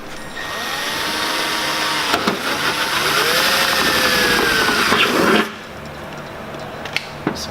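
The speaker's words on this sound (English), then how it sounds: "I'll watch this side while I drill some holes." A power drill drilling holes whines steadily for about five seconds, pitch shifting slightly as it works, then cuts off, leaving a quiet room with a couple of clicks.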